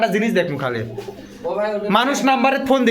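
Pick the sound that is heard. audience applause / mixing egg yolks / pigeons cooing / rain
pigeons cooing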